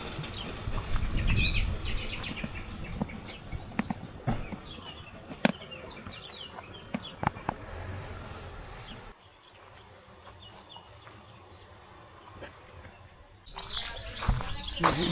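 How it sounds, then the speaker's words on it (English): Assorted birds chirping and calling inside a bird sanctuary, scattered tweets and clucks with occasional wing flaps, moderately near against a low background. "we've got a bird sanctuary here that's pretty cool. All different kinds of birds. All flying around in there."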